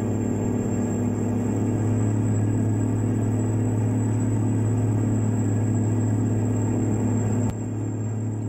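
A heavy road train in American Truck Simulator with a C500 V12 runs a custom, fast-chattering engine brake, a steady deep rumbling drone that holds constant before easing slightly near the end; no talk.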